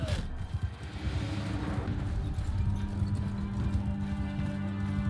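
Horse hooves in the video game Mount & Blade II: Bannerlord, a dense galloping clip-clop that runs steadily and fairly loud across the whole stretch, over a busy battle backdrop.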